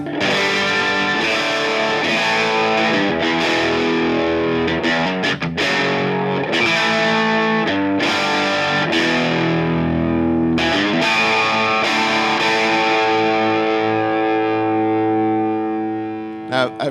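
Electric guitar on the bridge pickup plays through the clean input of a VHT Special 6 Ultra amp with the boost engaged, giving a loud, dense, driven tone of sustained ringing chords with a few short breaks and no talking.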